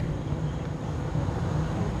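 Steady traffic rumble with motorbike engines passing behind a microphone test, a continuous low broadband drone with no speech over it.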